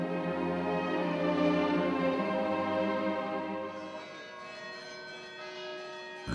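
The church bells of Etchmiadzin, seat of the Armenian church near Yerevan, ring out in layered, sustained metallic tones that hum and overlap, gradually fading and thinning out toward the end.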